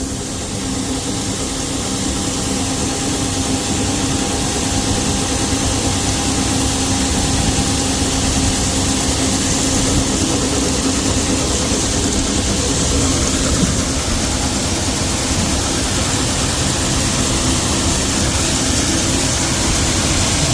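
A farm vehicle engine runs flat out at full throttle during harvest, a loud, constant roar with a steady low drone and whine that holds without change, close by and with no talk over it.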